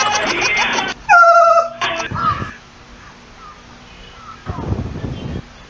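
A dog gives a few sharp, loud yelps and whimpers in quick succession, with brief background voices and other noises around it.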